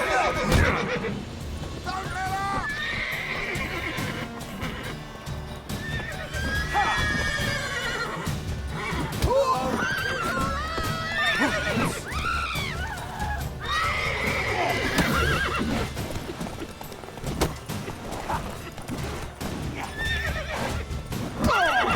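A horse neighs and whinnies repeatedly in Witcher 3: Wild Hunt, with clip-clop hooves and other game sounds underneath, while characters talk over much of it.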